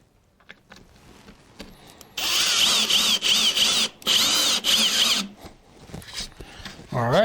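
A power drill drives screws into a freehand custom carved wood condo sign, its high whining motor running in several bursts separated by short pauses, close and loud, with faint handling noises between.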